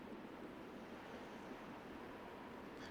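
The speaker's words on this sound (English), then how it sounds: "it's pretty windy out here" Steady wind blows outdoors in The Legend of Zelda: Twilight Princess HD, a continuous broad rushing roar that holds constant throughout with no talk over it.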